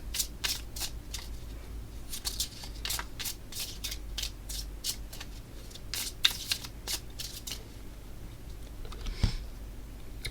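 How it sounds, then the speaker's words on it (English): Playing cards being shuffled back into the deck during a tabletop game of Sabbath: quick, crisp riffling and flicking ticks in close succession, fairly quiet and close, with no talking. "And then the Joker gets shuffled immediately"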